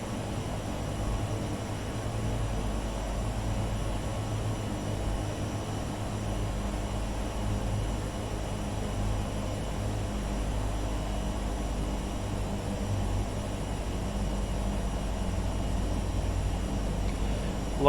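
A Realair Turbine Duke BE60 climbs in a flight simulator game, its turboprop engines a steady, moderate low drone that carries on without change throughout.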